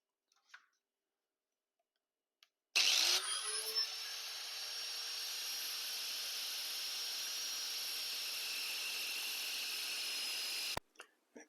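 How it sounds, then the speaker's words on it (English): A cutoff wheel spins up with a sharp whine and grinds steadily through a car rearview mirror stem for about eight seconds, a loud even high-pitched drone with a click before and after. "Okay, using our cutoff wheel."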